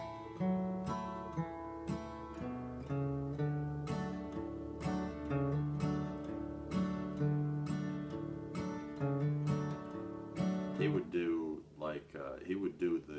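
An acoustic guitar plays a Doc Watson-style thump strum in C, as used on train songs: a steady alternating bass with percussive thumps and bright strums, close and moderately quiet.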